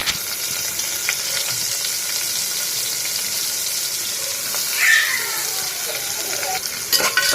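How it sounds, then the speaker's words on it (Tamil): Onions frying in hot oil with mustard seeds and curry leaves for hotel-style white kurma, a continuous close sizzle with occasional soft stirring scrapes and a brief faint voice. "வெங்காயம் நல்லா வதக்கிக்கலாம்"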